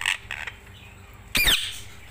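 A pet ringneck parrot lets out a single loud, harsh squawk close by, after some faint bird chirps and scratchy background sounds.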